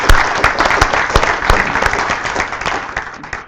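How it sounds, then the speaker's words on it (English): A round of applause for the ladies who helped run a summer kids club, loud and close, dense clapping with sharp individual hand strikes that slowly tapers toward the end. "I wanted to give them a round of applause"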